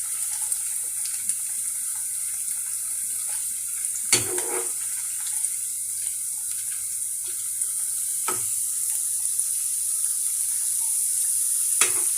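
Potato fingers for a vegetarian snack fry in hot oil, a steady bright sizzle running throughout with a few sharp crackles and spatters, no voices.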